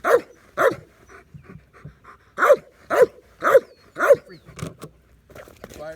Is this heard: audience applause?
no